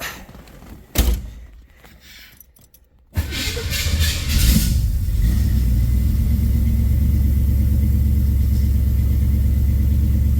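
A Camaro's engine, which has a throttle stumble, starts up after a door thunk, then runs steadily under load with a loud, low rumble that continues unbroken to the end.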